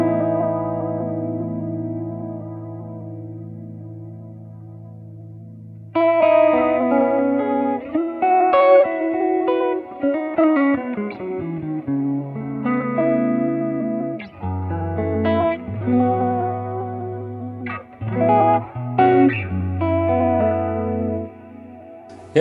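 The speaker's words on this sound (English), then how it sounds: "Tape Eater, which is a really cool modulation. I put this after the reverb" An electric guitar runs through the Tape Eater modulation effect on a Line 6 Pod GO, placed after the reverb. A sustained wavering chord rings first, then a busy melodic passage with warbling, echoing notes follows, loud and alone.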